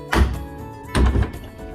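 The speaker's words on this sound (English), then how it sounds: "So it's a sliding door" Bathroom sliding door in a resort villa room, two heavy close thunks about a second apart as the panel is moved and bumps to a stop, with no talk over it.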